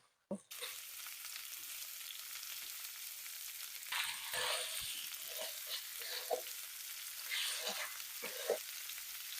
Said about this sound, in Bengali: এখন ম্যারিনেট করা সয়াবিন গুলো আর ভেজে রাখা আলুগুলো দিয়ে দেব